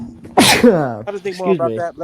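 A single loud human sneeze bursts out near the start, followed right after by someone speaking in a studio-style conversation.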